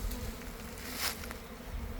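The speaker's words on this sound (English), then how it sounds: "pouring out thousands of bees into the hive" A swarm of wild bees fills the air around their hive with a dense, steady buzzing, loud and close, with no voices over it.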